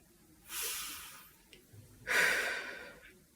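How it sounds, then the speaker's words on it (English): Two slow, breathy exhales about a second and a half apart, soft and close, with quiet pauses between them. "You can hear it, can't you? The slow, steady breath"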